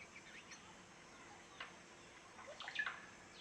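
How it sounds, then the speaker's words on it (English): A field recording of a bird from Peru brings faint, sparse chirps over a quiet hissy outdoor background, with a couple of louder sharp calls bunched near the end. "it's a field recording of a bird, a couple loud spikes."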